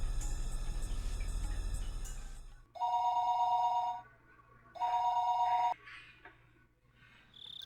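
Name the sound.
telephone ringing while calling Rena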